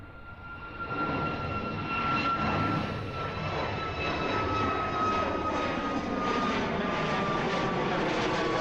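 An inter-island airliner takes off at Honolulu airport, a loud, steady roar of engines with a high whine running throughout, holding near and constant for several seconds with no talk.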